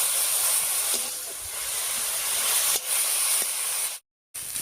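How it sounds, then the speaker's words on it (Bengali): Tender mustard greens (rai shak) fry uncovered in a pan as their water cooks off, giving a steady, loud hiss and sizzle with a few brief crackles and one short break near the end. "এবার একটুখানি ভাজা ভাজা করে নেব, জলটা শুকিয়ে যাওয়া পর্যন্ত"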